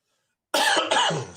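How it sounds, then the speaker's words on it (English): After a moment of silence, one sharp, close cough bursts out, breaking into two quick hacks. "Did not mean to cough in your ear."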